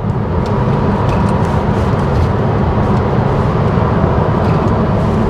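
MG Windsor EV electric car cruising at around 100 km/h in normal mode, a steady, dense road and wind roar that holds loud and unbroken throughout with no voices.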